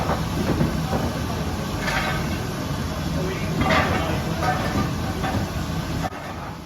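Heavy GWR-style freight steam locomotive 5239 Goliath, built for coal traffic, with its train on a heritage line in Devon: a steady broad rumble and rolling clatter with occasional hissing bursts, fairly close and continuous, under some background talk.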